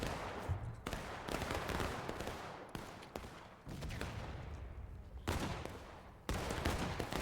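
Union troops fire muskets in scattered, overlapping volleys during a Fort Pillow battle in the video game Grand Campaign, a fairly faint, distant crackle of repeated shots.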